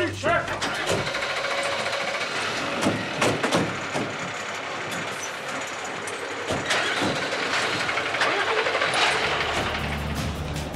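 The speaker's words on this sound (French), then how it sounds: "embarqués, moteur tournant" A firefighters' engine runs steadily through the whole stretch, its low rumble and mechanical rattle continuous and fairly close, with people talking over it throughout.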